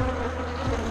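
Dense, steady buzzing of many honeybees close up at an open hive being calmed with peppermint oil instead of smoke, a continuous droning hum with no pauses.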